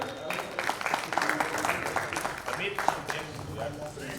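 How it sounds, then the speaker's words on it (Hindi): An audience claps at a Jain religious gathering, the applause uneven and moderate while people talk loudly over it throughout. "आइए जोरदार तालियां"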